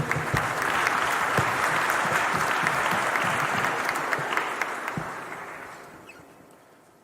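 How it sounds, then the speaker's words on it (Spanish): An audience at a Mexican electricity-market panel gives warm applause welcoming Eduardo Meraz, dense clapping holding steady for about five seconds before tapering off into quiet. "Saludamos al Eduardo Meraz con un cariñoso aplauso, por favor."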